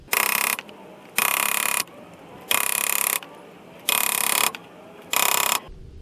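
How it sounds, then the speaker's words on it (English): Front axle splines on a 7th-generation Honda Civic being worked into the steering knuckle: five evenly spaced, loud bursts of rattling metallic tool noise, each about half a second long, separated by brief pauses, with no talking. "I'm tapping it slowly, and it's slowly just kind of walking itself in"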